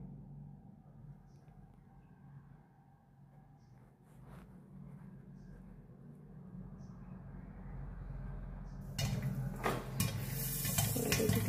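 Popcorn kernels popping inside a covered kadai, starting as a low rumbling bubble and breaking into a burst of rapid, sharp pops near the end that grows louder.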